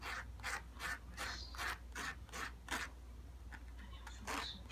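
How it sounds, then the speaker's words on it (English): A cut edge, from a ZeroGlide nut install on a Martin DCPA5 acoustic guitar, is rubbed back and forth on sandpaper to remove burrs, giving about eight close, rhythmic rasping strokes, then a few lighter ones. "put it onto the sandpaper here and take the coarseness out of the edge"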